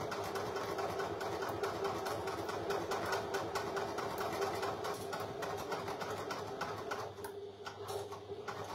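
A domestic sewing machine runs at a steady, continuous whir while stitching a zippered back pocket onto a bag, the motor sound loud and close, easing slightly near the end.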